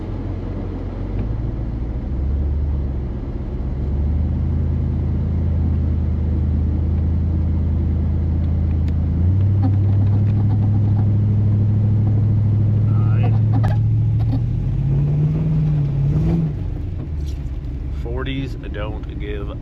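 An off-road vehicle in two-wheel drive pushes through a muddy hole in the rain with a steady loud engine rumble that revs higher partway through, then strains with a rising whine, as people talk and shout over it.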